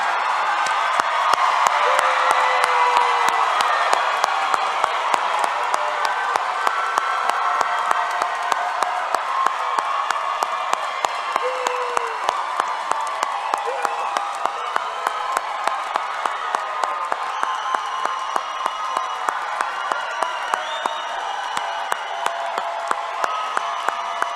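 Sustained applause from a large audience at a school graduation, steady clapping with a few cheers and whoops, gradually thinning toward the end.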